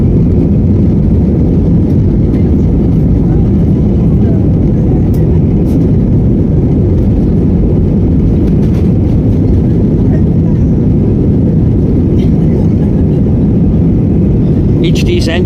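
The engines of an Airbus A320 roar loudly and steadily as they spool up for takeoff at Bangkok airport, a dense, continuous rumble heard from inside the cabin.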